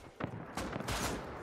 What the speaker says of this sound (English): Why is this cunt shooting at me?